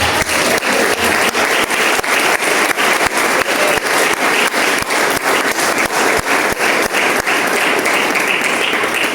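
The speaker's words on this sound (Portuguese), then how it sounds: "Quem pode aplaudir Jesus por essa palavra?" A church congregation applauds Jesus after a sermon in Portuguese, loud continuous clapping with sharp rhythmic claps standing out in a steady beat through the whole stretch.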